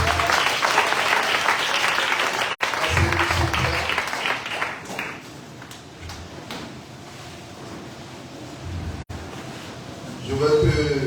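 A church congregation in Kumasi applauding during a Sunday service, a dense burst of clapping at first that thins into scattered claps, with sharp knocks and a voice speaking near the end.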